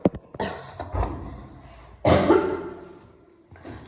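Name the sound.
coughing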